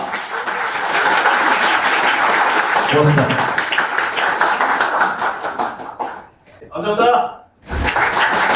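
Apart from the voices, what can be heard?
audience applause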